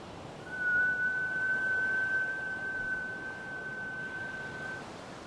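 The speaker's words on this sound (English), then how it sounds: "we will be doing a whistle as we inhale" A single long, steady high whistle made while inhaling, held for several seconds over a soft breathy background, fairly close and even in pitch.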